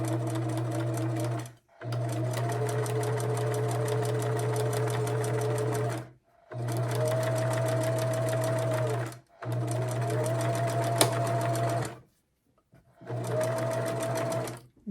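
A sewing machine stitching quilt pieces runs in several steady, loud whirring stretches, each lasting a few seconds and separated by brief pauses.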